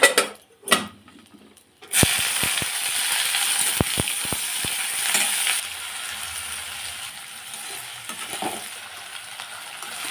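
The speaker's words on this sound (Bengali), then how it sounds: "আমি আগে এখন পেঁয়াজটা ভেজে নেব।" Onions drop into a wok of hot oil with dried red chilies, a bay leaf and garam masala. A few clicks and taps are followed by a sudden burst of sizzling that settles into a steady, close crackle.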